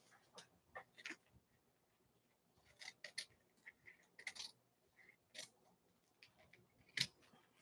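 Scissors snip here and there around a paper collage, a few quiet crisp cuts in short clusters separated by pauses, close and faint with no talking.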